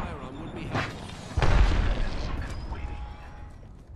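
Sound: arc star thrown and detonating, from video game Apex Legends

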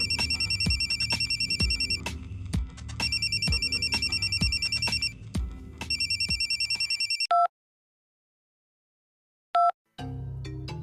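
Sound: telephone ringing

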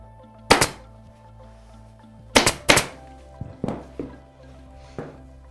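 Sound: staple gun stapling upholstery fabric on a chair

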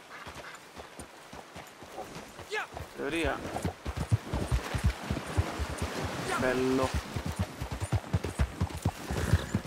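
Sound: horse hooves from video game Red Dead Redemption 2

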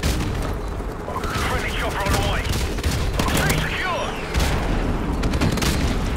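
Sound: grenade explosions and gunfire in Call of Duty 4 Remastered video game

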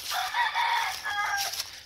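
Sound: chickens and rooster crowing

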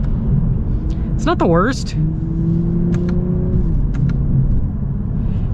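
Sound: Lexus RC 350 V6 engine accelerating in manual mode

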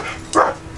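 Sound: dogs barking

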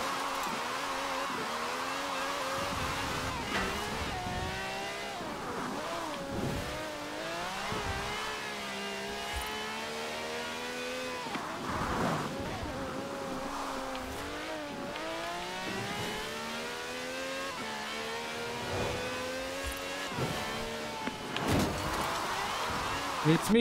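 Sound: rain and racing cars in Forza Horizon 4 video game

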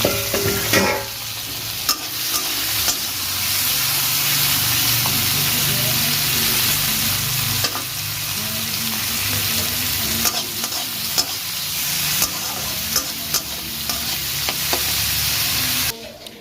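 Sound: prawns frying in oil

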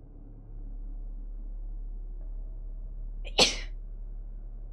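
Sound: sneeze

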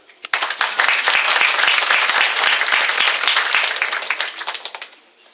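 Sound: applause

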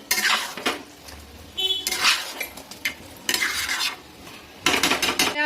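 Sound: stirring fried onions (birista) into a dish in a pan

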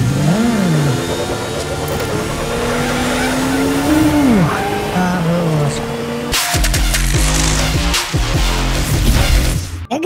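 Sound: Batman's bat-motorcycle engine in Gotham Knights video game

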